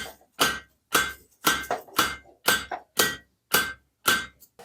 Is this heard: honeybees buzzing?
no